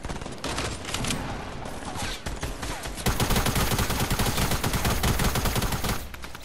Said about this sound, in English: I'm just getting my kills with SMGs right now.